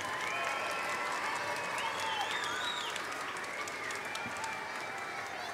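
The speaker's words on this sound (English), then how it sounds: "Let's give him another round of applause." Sustained audience applause at a kindergarten graduation ceremony, a steady dense wash of clapping with some crowd murmur and faint high children's voices and cheers mixed in, holding level throughout.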